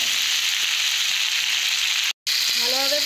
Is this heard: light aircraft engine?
no